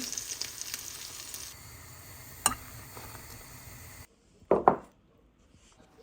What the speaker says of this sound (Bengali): পাতার বড়ার পাশাপাশি কয়েকটা পেঁয়াজও ভেজে নিচ্ছি